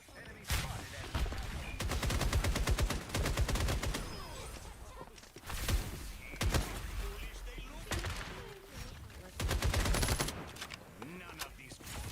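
Gunfire in Fallout 76 comes in dense, loud automatic bursts with rapid repeated shots, broken by short pauses and single cracks. Voices are heard through parts of it.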